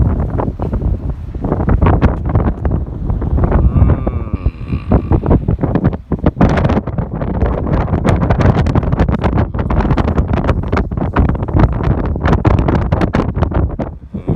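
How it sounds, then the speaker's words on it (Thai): Strong wind buffets the microphone outdoors in a continuous loud low roar during a run, with rumbling gusts throughout. "ลมแรงบรรยากาศดี"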